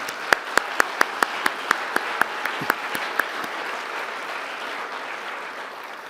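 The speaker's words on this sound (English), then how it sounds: "Can we please have another round of applause for Jovino?" Sparse audience applause at a Washington architecture honor awards ceremony, following a live musical performance: a steady run of distinct, evenly spaced claps over a hum of room noise, thinning out and stopping after about three seconds.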